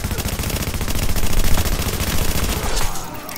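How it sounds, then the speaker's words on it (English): Rapid automatic gunfire in a video game, loud and close, a continuous stream of fast repeated shots that tapers off near the end. "Gun, pew pew."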